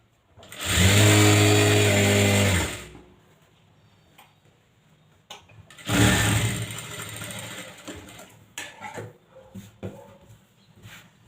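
A sewing machine stitches lace onto a blouse in a loud, close run of fast rhythmic whirring lasting about two seconds, then a second, more uneven burst, with scattered handling clicks between them.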